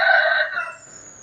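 A single rooster crow rings out clearly, loud and close, trailing off within about a second.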